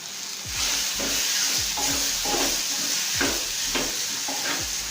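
Ingredients for matoke with beef stew sizzling in a hot pan while being stirred, a steady loud fry with repeated scraping sweeps of the spoon, close up and without speech.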